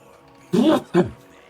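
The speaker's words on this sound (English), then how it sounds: "I'm going to sneeze." A single sneeze, a sharp sudden burst followed by a shorter second gasp, close and fairly loud.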